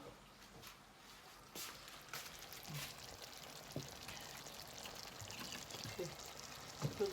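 Milk is poured into a pot of pasta with cream and broccoli on the stove, a faint liquid pour amid quiet kitchen clatter and soft taps, heard close under a low background.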